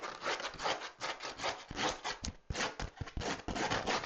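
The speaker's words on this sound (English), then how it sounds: "Like I can rub my hand on it, it's not gonna tear up my hand." A hand rubbing rough neon pink pickleball paddle skin material, producing quiet, close scratchy strokes repeated back and forth in an uneven rhythm.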